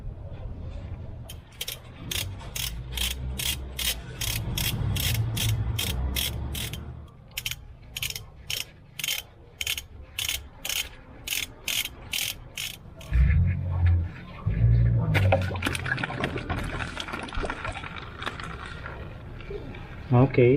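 Ratchet wrench working on bolts of a Montero Sport automatic transmission during a fluid and filter change: rapid, evenly spaced metallic clicks in bursts, close by, alongside speech and clanking handling noise.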